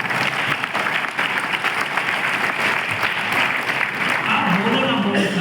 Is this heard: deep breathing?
no